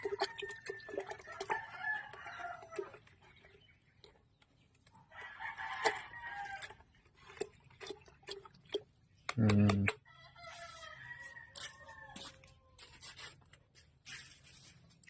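Chickens cluck and murmur at close range, with a louder squawk midway and scattered rustling between calls; the birds have colds or flu.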